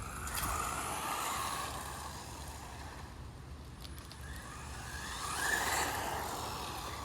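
A WLtoys 124017 RC car, Version 2 brushless, does a speed run outdoors. A broadband whirring rush is loud at the start, dips in the middle as the car moves away, then swells again as it passes close near the end.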